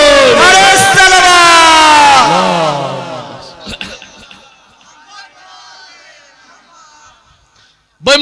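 A crowd at a 13 Rajab Jashn-e-Maulood-e-Kaaba religious gathering in Amilo, Azamgarh, chanting the Naara-e-Haidari slogan loudly in unison, then fading to a low murmur and near quiet, with a sharp burst at the very end.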